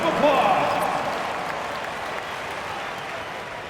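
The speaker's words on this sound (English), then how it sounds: "Screen Team, a big round of applause" A video game arena crowd applauding during an NBA 2K25 game between the Minnesota Timberwolves and Cleveland Cavaliers, a broad roaring wash of cheering and clapping that swells at the start and slowly fades, with a voice under it.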